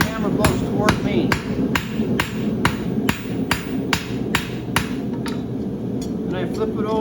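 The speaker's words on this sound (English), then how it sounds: "Bring the hammer blows toward me." A farrier's hammer strikes a horseshoe while forge-welding it, about a dozen sharp, ringing metallic blows in a steady rhythm, close and loud over a low background rumble.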